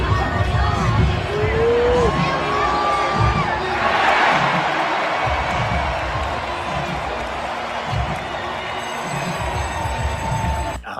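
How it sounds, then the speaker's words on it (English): A large football stadium crowd roars and cheers continuously after a touchdown at a Packers Family Night practice, with shouting and a commentator talking over the din. "Let's listen to the crowd."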